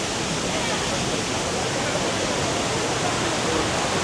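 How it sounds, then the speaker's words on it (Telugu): A waterfall in Vagamon, Kerala, beside a man-made tunnel, pours as a loud, unbroken roar of rushing water, dense and close from start to end. "అండ్ ఈ పక్క వాటర్ ఫాల్స్ అనమాట"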